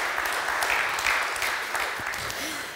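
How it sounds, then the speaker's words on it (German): A conference audience at the Lausitzer Fachkonferenz 2024 innovation pitch claps steadily, moderately loud and gradually easing off, with a faint voice briefly audible beneath. "Sie dürfen gerne noch mal klatschen."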